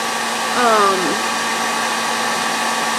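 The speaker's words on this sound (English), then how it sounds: "Some people like to just stick it right to the hair dryer." A hair dryer blows with a steady, whooshing roar and a constant motor whine, close and loud for the whole stretch.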